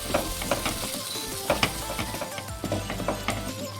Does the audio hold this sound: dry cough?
no